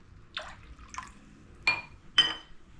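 Water is splashed from a bowl into buttermilk for Kathiyawadi gathiya curry, landing as four short, distinct pours spaced about half a second apart, each with a bright liquid splash.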